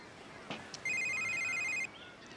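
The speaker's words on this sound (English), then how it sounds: "your phone, you gonna get that?" A telephone rings with one electronic trill burst, loud and close, after a few faint clicks and knocks in a quiet room.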